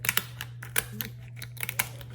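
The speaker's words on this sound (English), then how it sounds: "You just use the scissors." Sharp kitchen scissors snip through a raw lobster tail shell in a quick series of crisp, close crunching clicks over a low steady hum.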